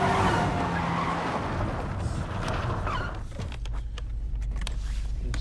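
Car tires skid and squeal during a film scene, a long loud screech with engine noise that cuts off abruptly, followed by quieter rumble and scattered clicks and knocks.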